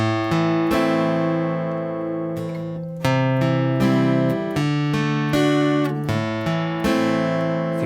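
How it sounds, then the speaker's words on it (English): Acoustic guitar picking chords one note at a time, each chord ringing out before the next, in a slow steady pattern with no voices. "you're playing the notes of the chord but one at a time instead of strumming them all together"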